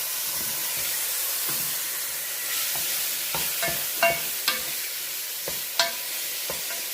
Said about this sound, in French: Et on va cuire la viande, on va la saisir. Ça chante, ça chante.